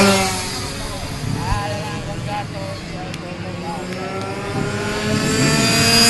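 Minimoto race bikes on a kart-style track buzz past in a close group, their high revving engines rising and falling under continuous commentary from a race announcer.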